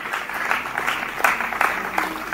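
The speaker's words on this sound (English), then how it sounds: "Please give them a round of applause again." An audience at a South Asia learning summit on AI claps in a brisk burst of applause, dense and continuous with sharper individual claps standing out, no voices over it.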